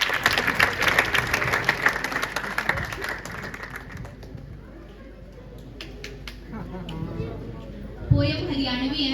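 Audience at a school event clapping to welcome a girl about to recite a Haryanvi poem, a busy round of applause fading after a few seconds into murmuring, with voices and a brief knock near the end.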